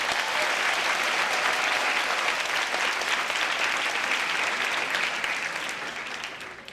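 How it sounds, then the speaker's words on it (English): A large audience at a university talk gives a big round of applause, a thick, continuous wash of clapping that stays loud for several seconds before starting to thin out. "please give another big round of applause to both Khalil and Joseph."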